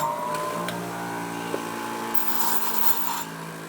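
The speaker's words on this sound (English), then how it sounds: "Just gonna use a grinder real quick." A grinder works on sharp metal on a homemade frog gig, a continuous whining hum with rubbing, scraping texture and a few brief clicks, close and steady.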